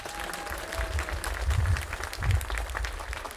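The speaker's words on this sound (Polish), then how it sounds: "Szczególne, gorące brawa dla wszystkich kobiet z orkiestry Dętej Cementowni" An audience at the 50th-anniversary jubilee concert of the Chełm Cement Plant brass band applauds steadily, a soft, moderately distant patter of many hands with slight swells in the middle.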